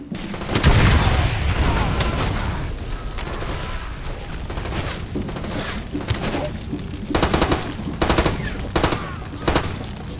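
Gunfire erupts in a Far Cry 2 firefight set in an African landscape: a heavy opening blast, then sustained bursts of automatic fire and scattered shots, loud and close.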